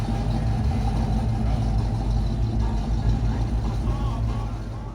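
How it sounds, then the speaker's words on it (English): A Chevelle rumbles as it rolls in at an outdoor car show in Stone Mountain, Georgia, its loud, close, steady engine filling the air before easing off slightly at the end. "Chevelle rolling in there."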